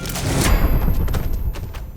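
Gunfire in Mafia 3, a dense burst of loud booming shots packed into the first half, then trailing echoes and scattered thuds fading out.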